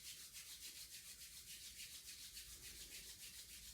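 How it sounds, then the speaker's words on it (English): Palms rub together quickly, a faint, close, rhythmic swishing friction in fast back-and-forth strokes, heard alone. "You can rub your palms together quickly and build up some friction."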